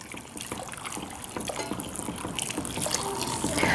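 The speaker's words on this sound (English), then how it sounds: "I have my chicken broth ready on standby to go ahead and pour that in." Chicken broth pouring into a roux in a pan while making a make-ahead gravy base, a continuous liquid gush and trickle that builds steadily in volume.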